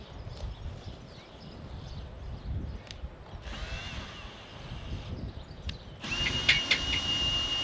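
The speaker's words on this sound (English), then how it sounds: "Now I can actuate the drill up." A Warrior drill rig's mechanism actuating the drill upward gives a steady mechanical whir and rattle with small clicks. The noise grows louder and brighter near the end.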